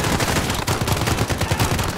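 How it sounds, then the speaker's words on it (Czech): Rapid gunfire from Call of Duty: Modern Warfare (2019), light machine guns rattling in dense bursts; loud, continuous volleys with a few heavier cracks, no talk over it. "už se to tady střílí"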